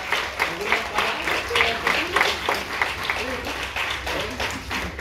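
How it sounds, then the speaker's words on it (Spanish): Party guests applauding at a children's celebration with a clown, steady dense clapping for several seconds with voices murmuring and calling out underneath. "Fuerte los aplausos."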